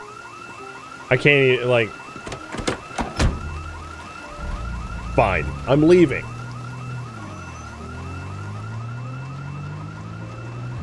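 A car alarm in the video game Project Zomboid, a steady electronic siren with a repeating warble that runs through the whole stretch, with a person talking over it early on.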